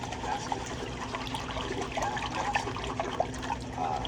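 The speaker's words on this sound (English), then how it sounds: "this is why I don't like rinsing the rice, because I'll be spilling most of it down the drain" Water runs steadily into a kitchen sink while rice is rinsed, a continuous close splashing with small trickles and bumps.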